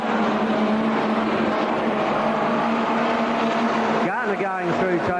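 Modified race cars roar around Borderline Speedway at Mount Gambier in 1996, a continuous loud engine drone with a car sweeping past near the end, under steady announcer commentary.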